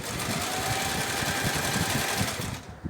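A sewing machine zigzag-stitches pillowcase fabric in a steady, close, continuous mechanical whir that runs the whole time and stops abruptly at the end.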